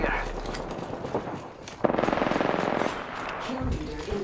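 Rapid gunfire in a video game shooter, aimed at the player, comes as a short burst of close shots midway through, amid game ambience and some voice activity.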